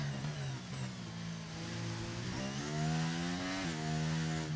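A Formula 1 car engine in the F1 23 racing game at the Singapore Grand Prix, a continuous high revving drone that climbs in pitch through several upshifts, loud and steady with no voices.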